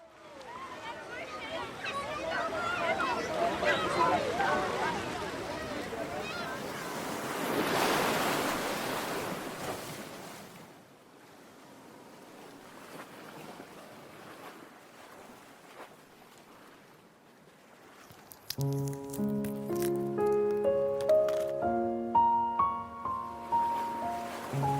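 Ocean waves swish on a beach at night in soft, rolling surges for the first ten seconds, then fade into a quiet stretch before bright melodic tones enter.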